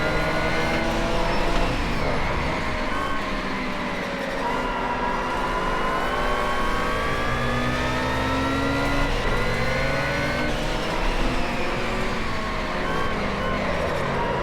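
Audi race cars in the racing video game Project Cars 2, engines howling and revving continuously with rising and falling tones, several cars layered together at steady loudness.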